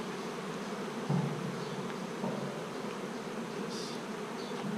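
Many bees drone steadily around a hive, a thick continuous buzz close by with faint passing whines from individual insects, no one talking.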